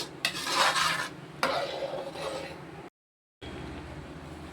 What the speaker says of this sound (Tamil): அது வரைக்கும் நம்ம வந்து கிண்டிக்கிட்டே தான் இருக்கணும்